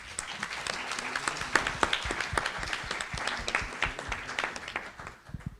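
Audience at a panel on interculturality and borders applauds, many hands clapping in a moderately loud, uneven patter that fades toward the end.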